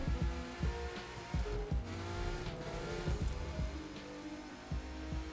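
A revving race car engine in an open-world racing video game roars steadily with rhythmic gear shifts and pitch swings, a continuous mechanical drone with no voices.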